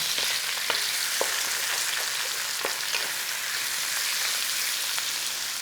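Cubed chicken fries in a pan over a low-to-medium flame for a one-pan chicken pasta, giving a steady close sizzle with scattered light pops and ticks throughout.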